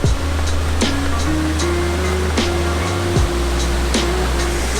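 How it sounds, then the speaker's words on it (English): Steady, dense roar of falling water at Mag-a-So Falls, a waterfall plunging into a large pool after rain, heard close and continuous with a low droning hum running underneath throughout. "we made it to the Mag-a-So Falls"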